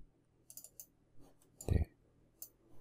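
A computer mouse clicks quietly in a quiet room, a few light taps then a sharper pair of quick clicks near the middle, while someone works on a 3D model of a traditional Korean house.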